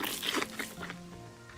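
An unfiltered exploding-strawberry chewing sound effect heard alone, brighter and crisper than a muffled version: a quick run of close, wet crunches and squishes over about a second and a half, ending on a sharp click.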